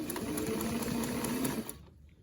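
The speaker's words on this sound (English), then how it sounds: "We're gonna stitch the pleats down" A sewing machine stitches down the pleats of a fabric face mask, a steady close mechanical whir and rapid needle chatter that runs continuously, then stops abruptly near the end.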